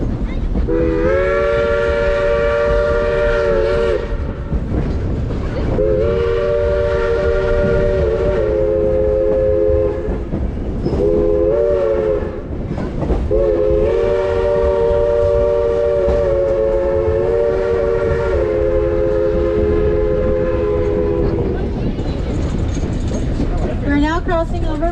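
A Nevada Northern Railway steam train runs with a steady chugging rumble while its whistle blows in several long, loud blasts separated by short pauses; a voice talks underneath.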